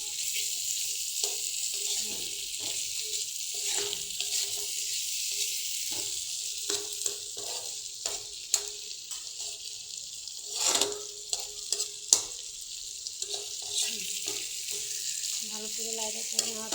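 Tomatoes sizzle in a frying pan on medium heat, a steady hiss of frying broken by frequent clicks and scrapes of stirring, close and moderately quiet, with no voices.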